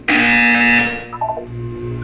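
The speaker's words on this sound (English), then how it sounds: "You will hear a buzzer." Loud buzzer from the game Portal 2 sounds alone for about one second, a harsh steady electronic tone that cuts off, followed by faint lower electronic tones.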